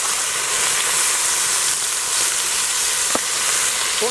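Onions frying in a Dutch oven for a Rostbrätel pot dish, a loud, steady, close sizzle that runs unbroken, with one small clink near the end.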